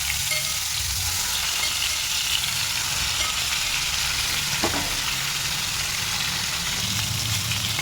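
Koi fish frying in hot mustard oil in a wok, a loud steady sizzle with crackling spatter that holds without pause, close and alone.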